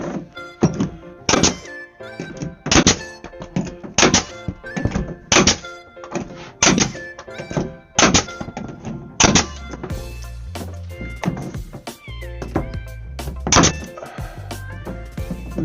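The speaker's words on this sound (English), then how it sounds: "Actually, I'm going to staple it off." A staple gun fires repeatedly into material during a bathroom repair and remodel, a series of sharp, loud thunks in an irregular rhythm, close by, with some lighter handling clatter toward the end.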